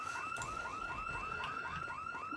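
Car alarm blaring in the video game Project Zomboid, a rapid repeating rising whoop cycling about three times a second, loud and continuous with no voices over it.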